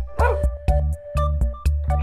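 A dog barks in a quick series of sharp, repeated yaps, about five in two seconds, close and fairly loud over a steady faint tone.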